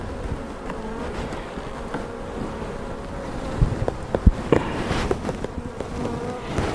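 Honey bees swarm around an opened hive, their close, continuous buzzing humming steadily throughout, with a few soft knocks and clicks of frames being handled.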